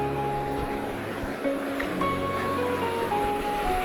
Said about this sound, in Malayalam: ആ വെള്ളച്ചാട്ടത്തിൻ്റെ സൗണ്ട് ഉണ്ടല്ലോ, അത് ശരിക്കും ഒരു നല്ല സുഖം കിട്ടുന്നു.